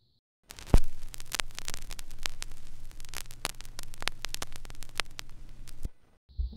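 Dust on a vinyl record being played back makes dense crackle and sharp pops for about five seconds, riding on a low steady hum, with no music or voices, then cuts off.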